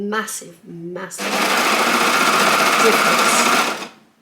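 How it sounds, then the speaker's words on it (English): Sewing machine stitching around a garment neckline, starting after a few short bursts of talk and then running in one steady close whir for a couple of seconds before stopping. "I had my sewing machine facing the window"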